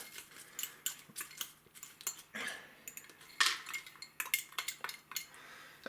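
A spoon briskly stirs seasoned pepitas in a dish, giving quick, close, uneven clinks and scrapes against the bowl in a short flurry.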